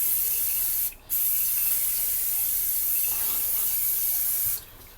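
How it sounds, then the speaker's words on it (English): A can of hair spray hisses in long, loud, steady bursts close by, briefly cut off once early on and then running on until it stops near the end, with no talking. "I'm gonna go ahead and probably try to finish off the rest of this spray in the can."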